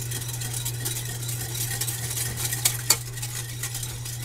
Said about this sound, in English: I'm going to mix it up. And that is going to thicken it up and make our gravy.